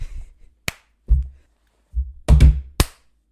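A single sharp hand clap stands out among a few other short slaps and thumps in a quiet room, each crisp and close, separated by silence.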